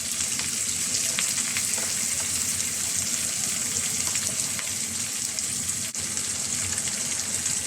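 Glass noodles (sotanghon) sauté in a hot pan with capsicum, a steady loud sizzle and frying hiss running throughout as they are stirred, with faint scraping and no talking.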